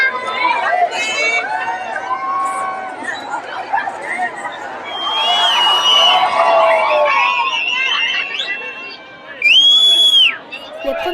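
A lively outdoor crowd in Tahiti chatters, shouts and cheers around Miss France during a walkabout, with voices layered up close, high excited calls, and a sudden loud shriek near the end.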